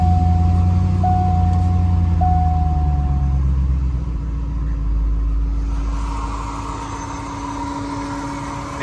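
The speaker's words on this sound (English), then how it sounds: "Cold start video on our 1991 Corvette ZR1" A 1991 Corvette ZR1 idles just after a cold start, with a steady, close, deep engine rumble and a thin whine running through it.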